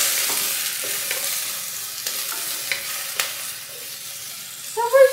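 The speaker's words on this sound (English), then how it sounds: "So we're just gonna let those saute for a little bit longer until they get soft" Vegetables sauté in oil in a pan, a steady close sizzle broken by occasional stirring clicks and scrapes, with a short muffled sound near the end.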